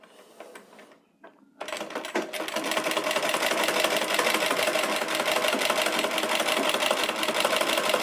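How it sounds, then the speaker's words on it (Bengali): A sewing machine winds thread onto a bobbin, starting after a short pause and a turn of the handwheel, then running as a steady, loud, continuous whirring hum that holds to the end. "এখন আমি মেশিনটা চালানো শুরু করতেছি এবং সুতাটা গসা শুরু করতেছি"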